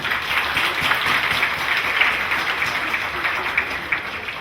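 A room full of people at a 40th commissioning anniversary event applauds steadily, a dense patter of clapping that holds at an even level without letup.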